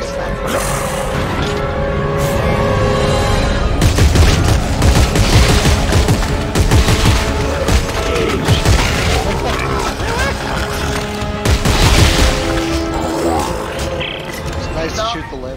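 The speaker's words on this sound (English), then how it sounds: "That's shooting." Loud gunfire and booming impacts in the sci-fi horror video game Dead Space 3, continuous rapid shots and crashes layered with game music, with a voice talking over the action.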